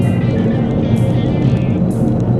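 A car passing in the opposite direction on a slippery rural road in winter, heard as a loud, steady vehicle rumble close by with a hissing road noise rising and falling across the pass.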